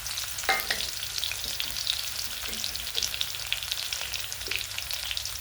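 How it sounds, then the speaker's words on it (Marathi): Coarsely crushed garlic sizzles steadily in hot oil in a pan, a continuous close frying hiss with a few brief stirring scrapes and no voices over it. "असा लसूण ठेचून घेतलेला आहे तर असा मी टाकत आहे"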